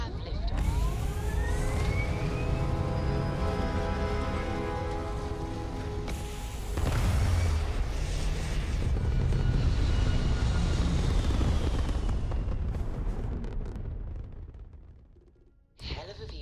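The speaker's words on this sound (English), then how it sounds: "We have liftoff." A spaceship lifts off in Starfield with a rising engine roar and whine, followed by a heavier, broader rumble that swells and then fades toward the end.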